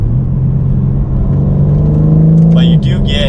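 A 2021 BMW M4 Competition Coupe engine hums from inside the cabin as a steady, fairly loud low drone that holds its pitch, with a brief voice near the end.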